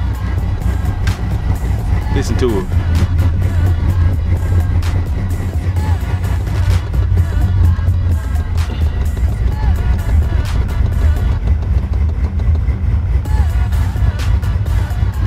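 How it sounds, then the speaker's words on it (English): LS-swapped OBS Ford truck engine cranks and settles into a steady, loud rumbling idle that runs throughout, with people talking over it. "Oh, I underestimated how fast my truck was gonna crank."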